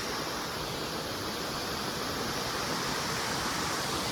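Steady hiss of the Şizir waterfall in Astara, a modest stream of water pouring in an unbroken, dense roar heard from nearby, uniform in level for the whole stretch.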